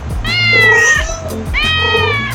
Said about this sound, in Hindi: यस, बिल्ली की आवाज़ है।